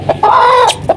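A brooding hen sitting on eggs gives a loud, close cluck, a short drawn-out call framed by brief clipped notes, heard alone.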